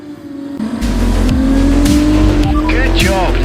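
Race cars in the video game F1 24 fighting for an overtake, a loud high engine whine rising and falling through gear shifts with brief tyre squeals, and a voice talking over it.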